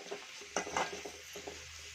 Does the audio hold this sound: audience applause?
no